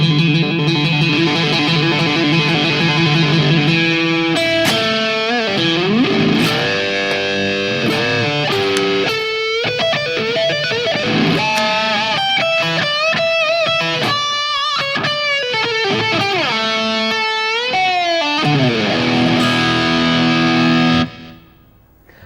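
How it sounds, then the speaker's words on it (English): An electric guitar played through an overdrive pedal into an amplifier, with bluesy soloing: bent, sustained notes and quick runs, loud and gritty for over twenty seconds before cutting off. "I can step on my overdrive pedal."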